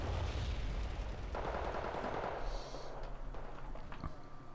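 Gunfire from units in a real-time strategy battle rattles in dense, continuous bursts over a heavy low rumble, loud and sustained throughout.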